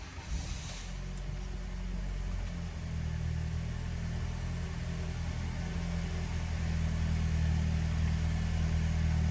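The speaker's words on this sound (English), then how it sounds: "let's go ahead and start this vehicle up for y'all." A 2019 Toyota Camry SE with just under 61,000 miles starts up, then settles into a steady, low idle rumble that stays close and constant throughout.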